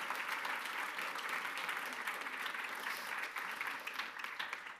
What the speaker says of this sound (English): Give please a warm applause for our panel members.